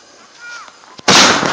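A loud silver firework bursts at a Labour Day display, a sharp sudden bang followed by a broad crackling roar that fills the second half, preceded by a faint rising whistle.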